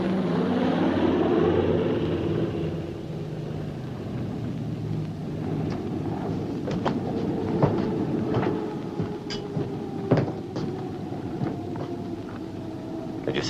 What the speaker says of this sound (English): Patrol plane, probably.